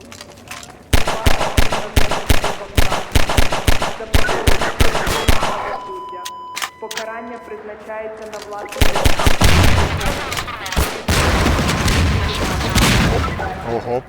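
Gunfire in the Half-Life 2 subway level, with rapid bursts of loud shots in the opening seconds, a quieter stretch of tones and effects, then dense continuous firing and explosive clatter toward the end.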